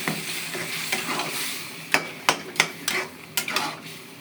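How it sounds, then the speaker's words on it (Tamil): Water hits a hot frying pan while tuber mash (pidi karanai masiyal) cooks, a steady sizzle under a series of sharp spoon-against-pan clacks and scraping stirs, close and moderately loud with no talking. "கொஞ்சம் வதங்கிறதுக்கோசம் கொஞ்சம் தண்ணி ஊற்றிக்கிறேன்"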